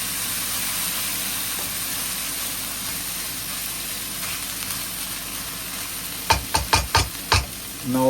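Beef and chicken stir-fry in oyster sauce in a hot pan, with a loud continuous sizzle and hiss, then a quick run of five or six sharp utensil scrapes and clanks near the end.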